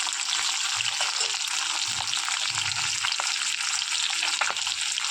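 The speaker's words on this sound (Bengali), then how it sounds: "মাছের মাথাগুলো দেখো একটু ভালো করে ভেজে নিতে" Fish heads fry in hot oil for a Bengali curry, giving a steady, loud sizzle with faint crackles and a few soft low bumps from the pan, continuous throughout with no talking.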